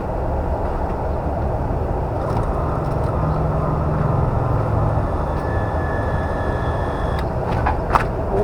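A newly installed household water pump running after being switched on, a steady, even mechanical hum throughout with a few faint clicks near the end, no talk.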